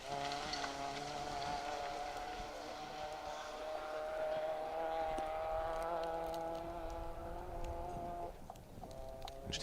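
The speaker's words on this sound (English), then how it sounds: "Just hear the engine" Two-wheel-drive rally car on a forest gravel stage, engine note rising with a strong harmonic whine as it passes and revs hard, then fading into the distance down a long straight.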